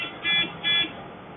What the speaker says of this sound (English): It will stop beeping once we get it there.